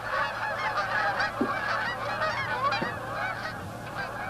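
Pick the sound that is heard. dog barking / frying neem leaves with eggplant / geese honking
geese honking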